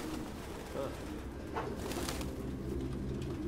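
Pigeons cooing in a game scene from Detroit: Become Human, a few soft coos over a steady ambient bed with faint background talk.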